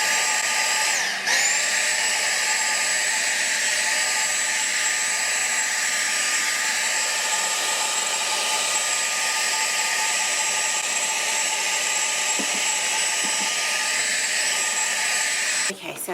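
Continuous loud whine of a vacuum cleaner sucking crumbs out of a toaster, steady for the whole stretch with a brief dip near the start and at the end.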